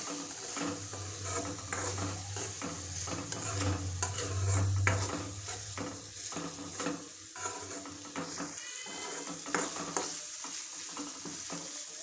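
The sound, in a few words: stirring red chili and coriander-cumin powder into vegetables in pan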